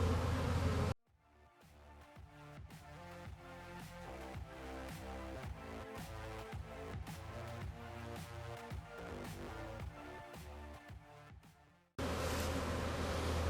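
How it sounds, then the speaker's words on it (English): A swarm of honey bees fanning at a box, a dense continuous buzzing drone of many insects close by, steady through the middle after an abrupt start, with no talking. "That's a mess of bees."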